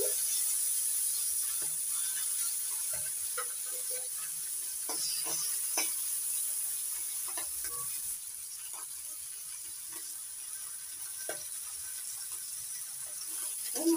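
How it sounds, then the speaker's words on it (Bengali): Small puti fish fry in oil in a pan, a soft, steady sizzle broken by scattered light crackles and pops, with occasional faint clinks of a utensil. "বাকি মাছগুলো ভেজে নিচ্ছি।"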